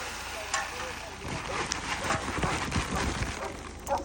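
Small horses shuffle and clop around sheep on a farm, with scattered hoof-like knocks and thumps over a steady broadband outdoor noise bed.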